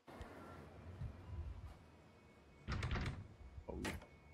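A door in the horror video game Aka Manto slides and bumps open, heard as two short rumbling, rattling bursts late on, over a low ambient hum.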